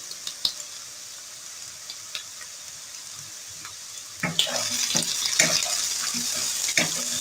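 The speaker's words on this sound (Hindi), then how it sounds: "अब मैं इसमें डाल रही हूँ सफेद जीरा 1 टेबल स्पून" White cumin seeds and softened onions sizzle in hot oil, starting as a faint crackle and turning into a louder, steady frying hiss with stirring clicks. No one speaks.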